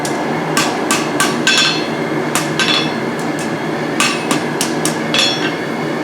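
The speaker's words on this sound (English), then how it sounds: "Once I get this hot, I'm just going to kind of knock this back in here. I'm using a rounded part on my anvil" A hammer strikes hot steel on the rounded part of a blacksmith's anvil, ringing out in a dozen or so loud, close metallic blows in an uneven rhythm, some quick and paired, over a steady background hum.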